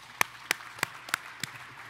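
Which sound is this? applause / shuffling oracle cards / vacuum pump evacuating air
applause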